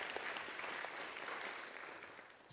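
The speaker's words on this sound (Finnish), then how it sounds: "Annetaanpa Samulille isot aplodit." An audience claps at a folk band's 20th anniversary concert, a full, even wash of applause with scattered sharper claps, gradually tapering toward the end.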